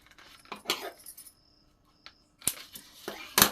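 Scissors snipping through a paper blouse pattern, marking out the neckline width, in short crisp bursts of cutting strokes separated by brief pauses, close and fairly quiet.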